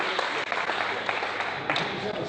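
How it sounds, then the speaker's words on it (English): An audience applauds in a dense, continuous wash of many hands clapping at once, steady and fairly loud throughout. "Applause."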